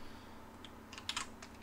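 AutoCAD commands typed on a computer keyboard: a short flurry of quick, light key clicks after a quiet pause, close and fairly soft.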